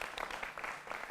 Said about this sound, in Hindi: जोरदार तालियों के साथ अभिनंदन करिए